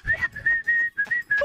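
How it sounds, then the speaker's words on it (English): Someone whistles a short, steady-pitched tune in several clear bursts, close and alone, with small gaps between phrases. "I don't like the whistling"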